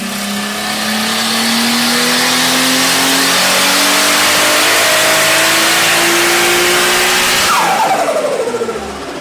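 A Nissan C34 Stagea's RB25DET engine revs hard through a long dyno pull, pitch climbing steadily for several seconds before the throttle lifts and the note falls away, loud and close with no talk.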